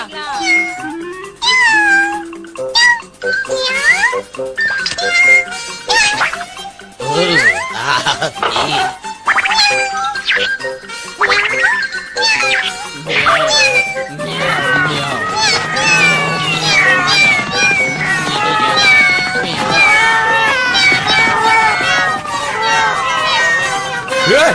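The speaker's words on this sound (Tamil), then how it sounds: "என்னப்பா அது, இத்தனை பூனைங்களா?" A large crowd of cartoon cats in a Ninja Hattori episode meows and yowls over one another, dense overlapping high cries and caterwauls that keep piling up, loud and close.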